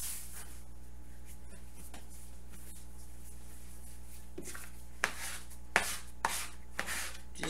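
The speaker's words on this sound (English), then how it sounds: "bowl scraper as a bench scraper, picking up all the bits and pieces as it's sticking to the countertop here." A plastic bowl scraper scrapes sticky bits of cinnamon roll dough off a kitchen countertop, giving soft swipes followed by several sharper scraping strokes close by in a quiet room.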